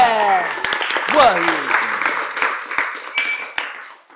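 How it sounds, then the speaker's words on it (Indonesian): An audience at a talk bursts into sustained applause, dense clapping close by over several seconds, mixed with cheering and a voice, tapering off at the end. "Tepuk tangan buat Ayah Bebe"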